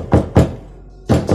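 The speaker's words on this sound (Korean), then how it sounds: "그들의 노크 소리가 점점 커져서 벽을 타고 울리는 것 같았고" Heavy knocks on a door for a horror radio drama, two loud dull thuds, a short pause, then two more, close and dry with nothing else heard.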